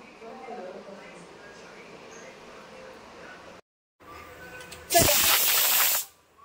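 A kitchen pressure cooker, cooking rice, lets off a loud, sustained burst of hissing steam for about a second near the end, after a stretch of quieter background noise and a short dropout.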